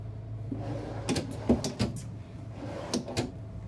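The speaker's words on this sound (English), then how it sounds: "Down below, you'll have a couple drawers, so you can store a little bit of stuff for whoever's coming with you." A drawer below the bunk in a 2025 Renegade Valencia 38BB Super C motorhome bunk room slides open and shut, giving a few quiet wooden knocks and thumps close by with no talk.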